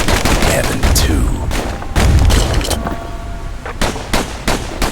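Dual pistols fire in quick, punchy volleys in the action game Bastion, loud and close with short pauses between bursts, amid battle clatter.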